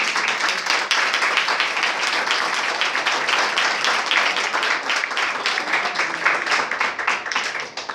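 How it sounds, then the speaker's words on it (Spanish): An audience applauds at the end of a lecture, with dense steady clapping from many hands that fades slightly near the end. "Un aplauso, Señor."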